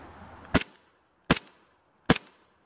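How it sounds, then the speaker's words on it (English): Three sharp, loud airsoft pistol shots from a Novritsch SSP1 crack outdoors in winter, evenly spaced about three-quarters of a second apart, each with a brief echoing tail. "Let's go ahead and get a couple initial shots."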